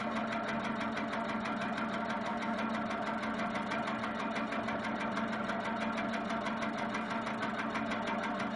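A sewing machine runs steadily, stitching circles across a quilt's inner border, its rapid needle rhythm a continuous close mechanical whir with no pauses and no talk.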